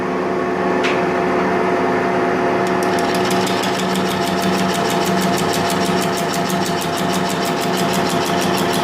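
A TaeguTec turning tool cuts steel on a lathe at a 1 millimeter depth, giving a loud continuous machining drone with a steady hum, then rapid rhythmic ticking from about the third second onward, with no talking.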